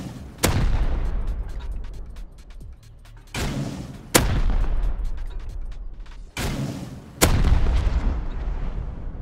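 Minigun fire in the video game Rust, fighting scientists: sustained bursts of rapid gunfire with heavy booming onsets, four separate volleys spaced a few seconds apart, loud and close, with echoing rumble between them.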